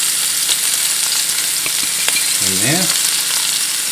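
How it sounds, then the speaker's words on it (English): Stew meat and flour sear in hot oil in a pan for Irish stew, a loud, continuous close-up sizzle with a brief tonal squeak midway and a few quiet words spoken over it. "the pan is nice and hot, the oil is hot, and we'll start putting our meat in"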